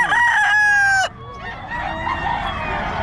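A sweater-breed gamefowl rooster crows once, loud and close, a drawn-out call lasting about a second, followed by quieter background clucking and market noise.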